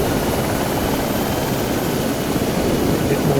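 An AS350 helicopter lifting off makes a loud, steady, broadband rotor and turbine roar that continues unbroken throughout with no talking.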